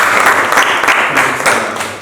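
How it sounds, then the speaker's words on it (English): Students in a school classroom give a loud, dense round of applause, close by and continuous throughout. "Can you clap for yourself?"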